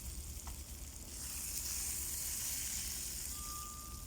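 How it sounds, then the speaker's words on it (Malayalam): Fish fry in hot oil in a pan for Kerala-style fish nirvana, giving a steady, close, hissing sizzle that swells slightly after the first second and holds with no talk. "എല്ലാ മീനും വറുത്ത് കോരുക."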